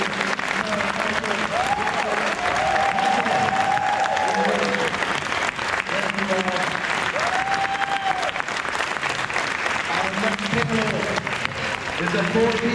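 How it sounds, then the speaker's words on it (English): Sustained applause from a convention audience at a Halloween-themed panel wrap-up, a steady dense clatter of many hands filling the hall throughout, with a voice speaking over it at intervals. "Big round of applause for our panel here."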